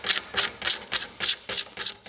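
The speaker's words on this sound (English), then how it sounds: "I'm going to take my pocket knife and kind of clean this lower ring up." A pocket knife scrapes along an Osage orange bow stave, clearing pithy early wood from the back in seven steady, rhythmic strokes, each a bright close rasp with a brief pause between.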